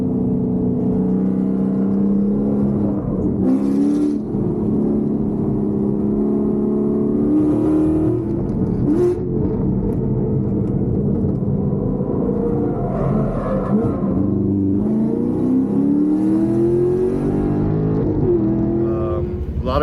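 A Chevrolet Camaro SS 1LE running on E85 laps a race track, its V8 engine droning loud and close with rising and falling revs through gear changes across the whole stretch.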